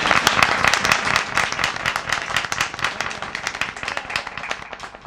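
An audience at a Punjabi poetry recitation breaks into applause after a couplet, a dense, steady burst of many hands clapping that fades slightly toward the end.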